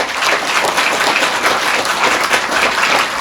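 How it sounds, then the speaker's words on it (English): Steady applause from a conference audience at MicroCon 2022, a micronation gathering, filling the hall as dense, continuous clapping throughout the short stretch with no talk over it. "please can we give a big rousing round of applause for Grand Duke Travis"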